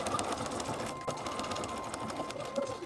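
A sewing machine runs steadily as it stitches down a fabric overlap near a cuff, giving a close, even mechanical whir with faint clicking.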